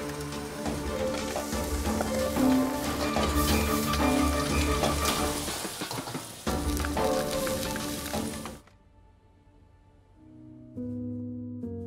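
Nasi goreng (fried rice) sizzles and crackles steadily in a hot pan in a kitchen, fairly loud and dense, with the frying cutting off near the end as soft music takes over.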